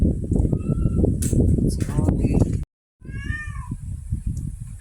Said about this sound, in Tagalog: Ayan siya, mga pusa si Oli.